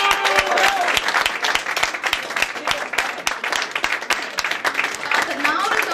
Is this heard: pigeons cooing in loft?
no